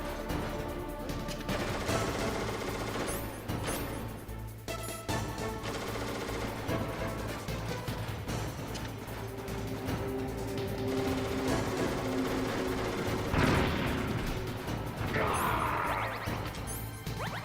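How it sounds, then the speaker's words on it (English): Gunfire in the Metal Gear Solid video game crackles in dense, loud bursts of rapid shots mixed with crashing impacts, continuing almost without pause throughout. "He's shooting everywhere today."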